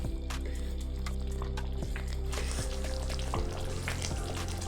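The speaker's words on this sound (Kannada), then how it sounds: "ಇವಾಗ ಒಂದು ಸಲ ಮಿಕ್ಸ್ ಮಾಡ್ಕೋಬೇಕು" Creamy malai chicken in a pan is stirred, making a steady, moderate sizzle and bubbling with scattered soft clicks of a utensil against the pan throughout.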